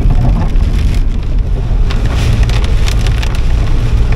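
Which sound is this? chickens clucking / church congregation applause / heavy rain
heavy rain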